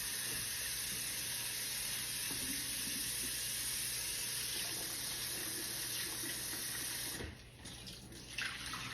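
Potatoes washed under running water at a kitchen sink: a steady, close hiss of a flowing tap that carries on alone, then briefly drops and shifts near the end.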